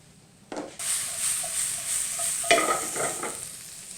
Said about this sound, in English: When our pan is hot, we'll add a little oil and we'll add our mushrooms.